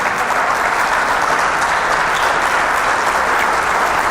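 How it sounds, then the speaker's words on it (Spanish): A church congregation applauds steadily and loudly, a dense, even wash of many hands clapping throughout with no pauses. "Si le vas a aplaudir, apláudele bien."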